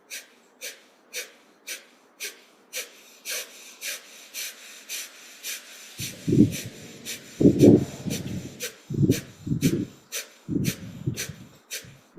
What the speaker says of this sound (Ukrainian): І ми в цьому положенні включимо потужне дихання вогню.